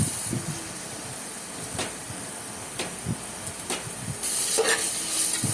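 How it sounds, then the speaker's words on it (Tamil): Onions sauté with mint and coriander leaves in a pot for a vegetable pulao, making a soft, continuous sizzle broken by several sharp, close scrapes of a spoon against the pot. "வெங்காயம் வதங்கி வரும்போது அது கூடவே நம்ம எடுத்து வச்சுருக்கிற புதினா, கொத்தமல்லியை போட்டு நல்லா வதக்கிக்கலாம்."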